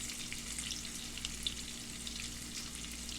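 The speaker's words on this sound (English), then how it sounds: "so I have some more onions I'm going to add to it" More onions fry in a pan for smothered chicken, a faint, even sizzle hissing steadily with a low background hum and no voices.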